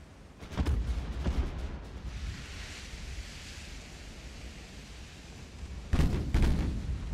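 Naval gunfire from warships in the Ultimate Admiral: Dreadnoughts video game booms in rolling, distant-sounding salvos, one cluster near the start and another toward the end, over a constant rushing sea-like background.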